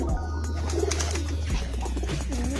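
Soft cooing of kolong pigeons in a loft in Pekalongan under a steady low hum and background murmur, a few throaty calls rising and falling close by.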